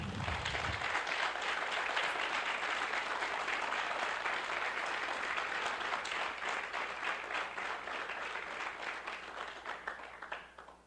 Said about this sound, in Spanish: Vamos a darle un aplauso a la persona del Espíritu Santo.